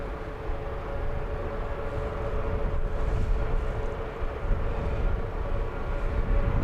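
An EasyJet airliner at London Luton Airport gives a steady, broad engine roar with a low rumble and a faint whine, holding at an even, fairly close level throughout with no voices.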